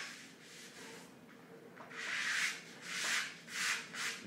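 A guitar maker's hand plane takes very fine shavings from a piece of wood clamped in a mould, heard as soft swishing strokes that grow into four louder, rhythmic passes with quiet gaps between.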